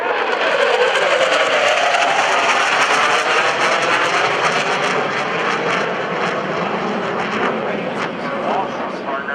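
An F/A-18C Hornet jet in a demonstration at the 2011 NAS Oceana Airshow: a loud, continuous roar that sweeps in pitch as it passes, with commentators talking over it.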